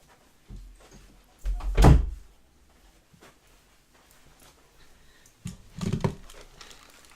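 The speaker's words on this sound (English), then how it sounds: "I'm going to shut the door." An indoor door swings shut with a solid thunk near the mic, preceded by a soft knock and followed by a rattle of handling a few seconds later; no talk over it.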